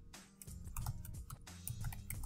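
Rapid typing on a computer keyboard, dense clattering keystrokes in quick irregular bursts, close and moderately quiet, with no voices.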